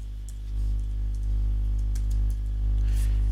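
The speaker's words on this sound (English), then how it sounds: "So let's go ahead and type in our password." A Mac keyboard is used to type a password, giving a few soft, scattered key clicks close by over a steady low electrical hum.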